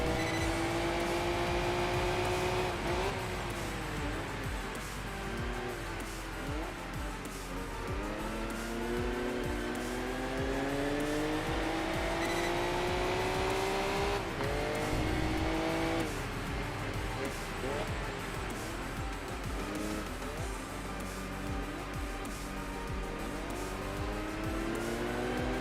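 Mazda Miata engine in Enthusia Professional Racing revving up through repeated gear shifts, the pitch climbing and dropping several times with faint tire noise, steady and fairly close.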